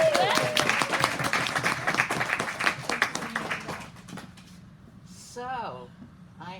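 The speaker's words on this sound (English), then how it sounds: "Every round of applause for them." An audience at a book launch event at Belmont Bookstore breaks into lively clapping that thins out and fades, with a voice speaking briefly as the applause dies away.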